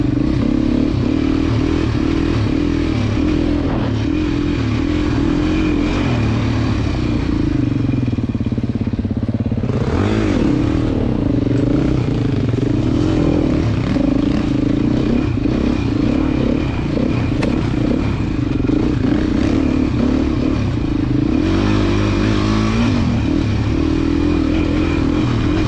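A 2024 Beta off-road motorcycle being ridden, its engine droning loud and steady with shifting revs, surges and dips, plus clatter and rattle from the bike, close throughout with no talk.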